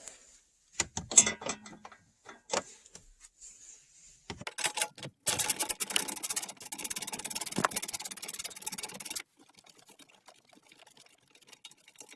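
A ratchet wrench works on bolts under the steering wheel of a 1992 Mercury Topaz/Ford Tempo: scattered close metallic clicks and scrapes, then a dense run of fast ratcheting, trailing into faint quiet rustling.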